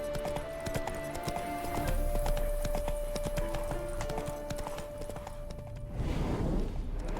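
Horse hooves clip-clop steadily in The Witcher 3 video game, with a horse neighing and whinnying amid ambient in-game sounds; fairly quiet and continuous throughout.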